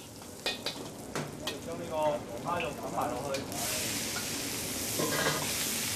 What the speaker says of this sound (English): Then stir up vegetables, sauce, and lobster meat.